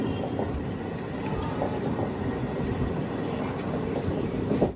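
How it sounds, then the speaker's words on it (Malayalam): A local train to Chennai runs steadily on the rails near Perambur, a loud continuous rumble with faint clickety-clack throughout and no voices. "പതിനൊന്ന് 15 ട്രെയിൻ ഇതാ പെരമ്പൂർ റെയിൽവേ സ്റ്റേഷനിലേക്ക് എത്തിയിരിക്കുകയാണ്"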